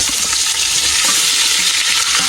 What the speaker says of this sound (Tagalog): Para maprito muna siya, maluto.